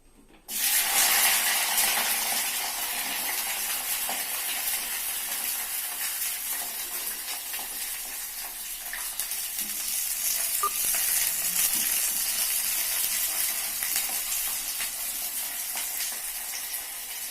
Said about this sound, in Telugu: మిర్చి ఫ్రై అవుతున్నాయి